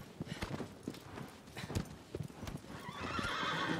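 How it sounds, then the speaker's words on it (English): A horse in the PS4 video game Shadow of the Colossus clip-clops with irregular hoof strikes, then whinnies, with quiet talking underneath and a rising rush of noise toward the end. "How do I make the horse go faster?"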